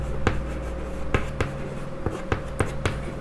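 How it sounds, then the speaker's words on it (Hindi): Chalk or pen writing during a class 8 maths lesson on quadrilateral angles, heard as a series of crisp taps and short scratchy strokes at an uneven rhythm over a faint steady hum. "यहाँ हम लिखेंगे"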